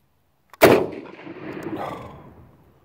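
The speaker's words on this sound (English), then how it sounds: "I'm going to fire one shot and see if it'll actually shoot." A single close, sharp gunshot from an old M38 Carcano carbine rifle, followed by a long reverberating echo that fades over about two seconds.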